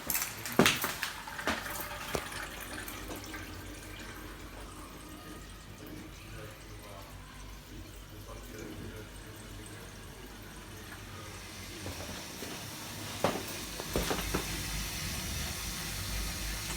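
Water running through the pipes of a domestic heating system with the circulation pump going, a steady watery rush and hum punctuated by a few clanks and knocks, heard close up.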